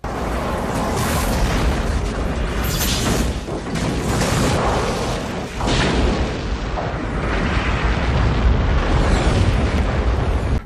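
Klingon ship explodes in the Star Trek Generations film: a loud, sustained rumbling blast with repeated booming bursts and crackling debris over nearly eleven seconds, no talk.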